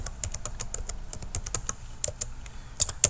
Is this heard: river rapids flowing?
no